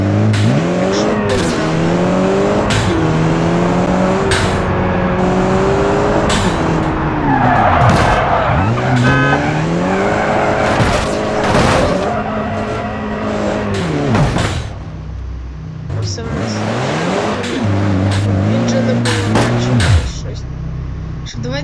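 In the BeamNG.Drive video game, a car drives hard with engine revs rising and falling and repeated tire squeals and skids, loud and close throughout, under intermittent talking.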